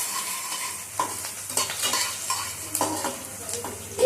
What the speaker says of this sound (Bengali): পেঁয়াজটাকে নাড়িয়ে দিচ্ছি